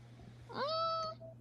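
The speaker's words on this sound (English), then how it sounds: "I've got a cat." A pet cat gives one clear, drawn-out meow close by in a quiet room, rising then holding steady for about half a second before fading, with a low hum underneath.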